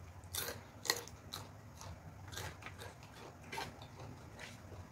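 Close, crunchy bites and chewing of food come in short irregular bursts, each crisp crunch standing out over quiet mouth sounds, with no talking.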